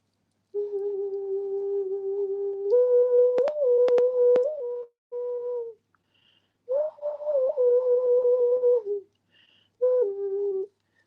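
Māori hue, a gourd instrument played with whale bone, gives soft breathy whistled tones, held notes stepping between pitches in several phrases separated by pauses, with a few sharp taps in between.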